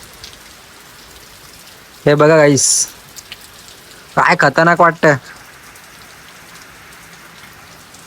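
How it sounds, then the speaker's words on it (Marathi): Heavy monsoon rain pours steadily on Dahanu's flooded fields during the season's first downpour, a dense continuous hiss throughout, with someone speaking over it in two short bursts. "पाऊस सकाळपासून चालू आहे, एकदम खतरनाक"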